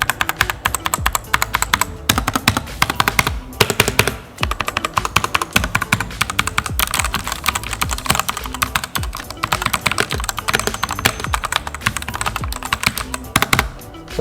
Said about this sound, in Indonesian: kira-kira seperti itu suaranya untuk dipakai typing ya